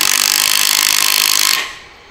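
A Makita 40Vmax 004G impact wrench tightens an M16 bolt with loud, close, rapid hammering that runs steadily, then stops abruptly and fades near the end. No one speaks.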